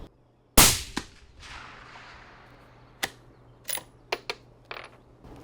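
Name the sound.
rifle shot fired after closing the bolt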